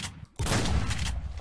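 A shotgun blast in a PvP combat video game: after a brief quiet gap, a sudden loud, broadband burst hits and then sustains as a dense roar of gunfire for about a second, close and alone without voices.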